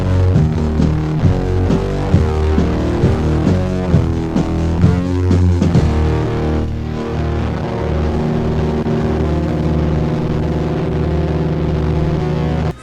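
Black metal demo recorded through a headset microphone: dense, distorted guitar and drums in a muddy, lo-fi wash that runs loud and unbroken throughout, with no speech.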